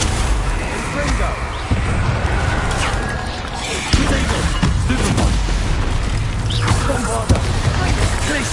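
Spell blasts from the Confringo fire spell in the Hogwarts Legacy video game, a run of booming bursts and pops over a dense, busy game soundscape.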